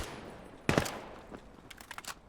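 Gunfire in a Vail VR esports match between Cobra Cartel and Error 404: a sudden loud burst of rapid shots, then a run of quieter, scattered pops as the firefight continues.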